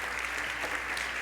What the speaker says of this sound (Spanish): Dele fuertes aplausos al Señor